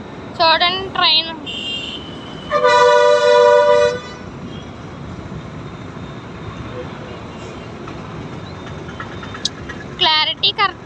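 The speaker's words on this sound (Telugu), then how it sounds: "చూడండి, ట్రైన్" By the flooded Godavari at Rajahmundry, a passing train blasts one long, loud horn over a constant rumbling roar, with shorter toots at the start and end and voices talking in the background.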